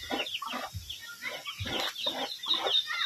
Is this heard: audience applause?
no